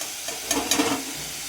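Ginger, tomato and ground cumin, chilli and turmeric sizzle in a pan with a little water as a spoon stirs them, two quick scraping strokes over a soft, steady frying hiss.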